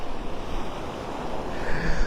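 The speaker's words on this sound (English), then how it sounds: "I just knew it was windy and chilly." Steady wind roars over a beach at Delnor-Wiggins in North Naples, with waves surging and breaking underneath and wind buffeting the microphone, rising toward the end.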